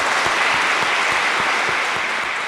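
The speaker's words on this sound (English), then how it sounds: "please give a round of applause for both speakers" An audience applauds both speakers after a debate, a sustained wash of clapping with individual claps audible, steady and close throughout.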